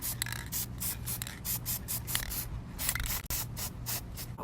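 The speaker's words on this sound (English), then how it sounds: "I'm just gonna quickly spray these to my liking." A spray can mists gold paint onto roses in rapid short bursts, a steady run of hissing puffs close to the microphone with a brief pause near the end, no voices.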